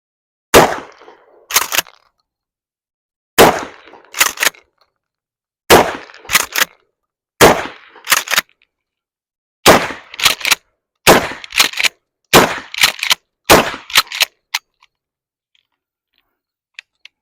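A Mossberg 500A 12 gauge pump shotgun firing birdshot at 7 yards, about eight loud sharp blasts, each followed by the clack of the pump action, spaced a second or two apart. Quiet faint clicks come after.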